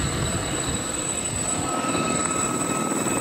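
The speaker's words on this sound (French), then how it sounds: "Les hélicoptères du Batalat, bataillon de l'aviation légère de l'armée de terre, basé à Abéché, s'apprêtent à effectuer un tir de missile Hot." Gazelle military helicopters preparing for a HOT missile firing produce a steady engine whine with high turbine tones over a continuous broadband rumble, loud and unbroken.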